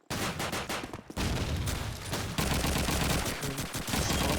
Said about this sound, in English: Tommy rattling off those M1 Garand shots